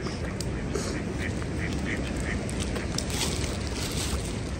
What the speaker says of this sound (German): Oh, das ist aber eine schöne Ente.